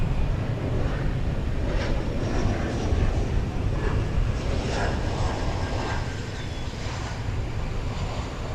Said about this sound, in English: Flight 1440, American Airlines going to San Luis Potosí in Mexico. This is an Airbus A319.